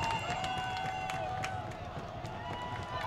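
A crowd at a high school lacrosse semifinal cheers on teammates, a continuous distant roar of voices with scattered shouts and whistles, while nearby speech runs underneath.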